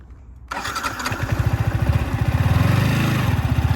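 A motorcycle engine suddenly roars to life and settles into a loud, rhythmic, throbbing putter as the bike strains up a steep uphill climb, close by and alone without talk.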